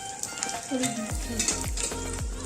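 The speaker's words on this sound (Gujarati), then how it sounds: "થોડી હિંગ મેથી જીરું બંને નાખી દીધું" Asafoetida, fenugreek and cumin crackle as they hit hot oil for tempering dal, a close, busy sizzle with repeated sharp pops and scraping stirs in the pan.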